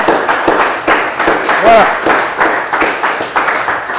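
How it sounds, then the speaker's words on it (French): Applause from an audience at a prize-giving for a game final in Lubumbashi, a steady patter of hands filling the room while a voice speaks briefly over it. "Merci de l'applaudir, s'il vous plaît."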